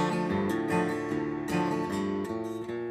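Strummed and picked acoustic guitar plays a short instrumental passage, steady and full-sounding, with rhythmic chord changes and no voices.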